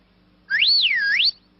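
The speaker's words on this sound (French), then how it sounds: "Vous sifflez, puis vous criez bien fort le mot « taxi »." A single rising-and-falling human whistle, loud and close, about a second long, with nothing else around it.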